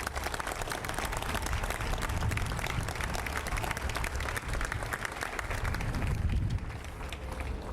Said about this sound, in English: May we give to the workers a round of applause for their service.